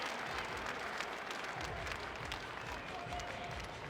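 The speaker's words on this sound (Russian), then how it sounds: "Мы слышим аплодисменты." Applause fills the hall after the first bout of an international boxing tournament, a steady dense wash of clapping from a crowd, loud and continuous throughout.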